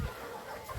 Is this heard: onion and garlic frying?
no